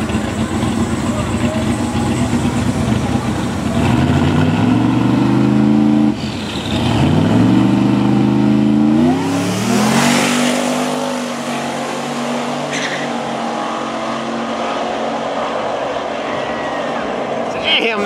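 Drag racing cars roar down a drag strip at a night race event, engines rising in pitch through repeated gear shifts and fading into the distance, loud and close at first, with people talking over the noise.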